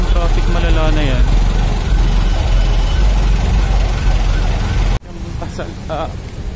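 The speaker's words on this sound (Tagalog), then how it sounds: "Grabing traffic malala na yan." Congested traffic on a national road in Cagayan de Oro, a loud, steady mix of idling and creeping engines close by, with a voice speaking over the noise and a sudden cut near the end.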